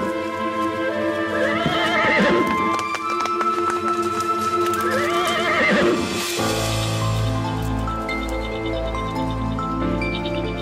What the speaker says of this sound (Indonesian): Suara tapak kaki kuda.